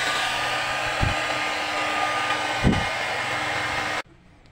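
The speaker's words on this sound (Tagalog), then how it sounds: "sa pamamagitan ng pag-init natin ng soldere ng hot air or hair dryer." A hair dryer blows hot air onto solder on the vertical yoke of a Sharp 14-inch CRT television, a steady loud whooshing hum with two brief thumps, then it cuts off abruptly near the end.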